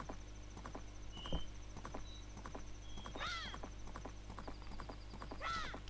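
Horse hooves clip-clop in the video game Zelda Majora's Mask at the ranch, a steady trotting patter over low game music, with whinny-like calls rising twice.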